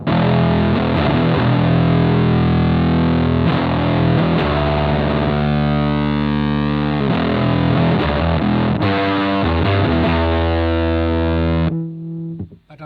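Bass guitar run through an Ibanez FZ7 fuzz pedal gives a loud, thick, buzzing distorted tone, sustained notes sliding and changing pitch, then cut off abruptly near the end.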